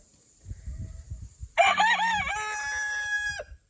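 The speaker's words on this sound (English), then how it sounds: "the white one in the background is a Leghorn. He has a nice, pretty little crow" A white Leghorn rooster gives one loud crow lasting about two seconds, close by, after soft rustling and shuffling sounds.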